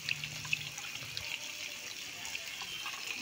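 Running water pours steadily from a tap as river fish are washed by hand. The splashing and trickling are close and continuous, with small clicks and drips.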